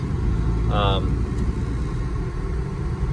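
A 1994 Buick Century driving on a road, its engine and road rumble forming a steady low drone throughout, with a brief chirp near the start.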